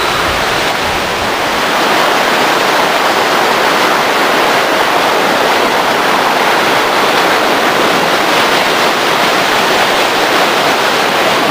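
A mountain stream in Kościeliska Valley in the Tatra Mountains rushes loud and close, a steady broadband roar of tumbling water with no pause and no voices.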